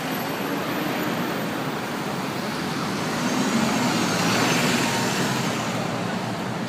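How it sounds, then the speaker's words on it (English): Steady roar of busy London street traffic, cars, trucks and buses rolling past close by, a continuous wash of engine and tyre noise that swells slightly midway, heard while running through the city. "The traffic noise is insane."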